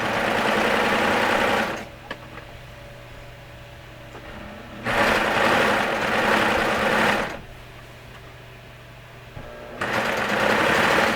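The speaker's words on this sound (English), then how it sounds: "I'm letting the serger just take the fabric" A serger stitches along shirt fabric, fed freely without pushing or holding back, in three loud, steady runs separated by quieter pauses.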